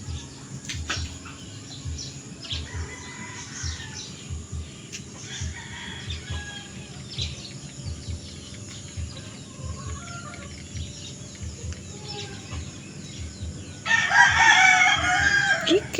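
A chicken clucks softly and repeatedly close by, then a rooster crows loudly near the end, over a low background hum.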